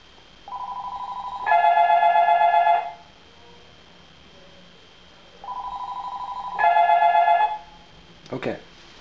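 A phone ringtone plays two repeated bursts of electronic tones, each stepping up in pitch, fairly close and clear, followed by a short handling clatter.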